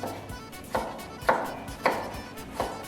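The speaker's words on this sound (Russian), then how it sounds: "Очищаем наш промытый картофель и затем нарезаем мелким кубиком." Peeled, washed potatoes being diced into small cubes with a knife on a cutting board, five distinct chopping knocks spaced roughly half a second apart, close and moderately loud, with no talking.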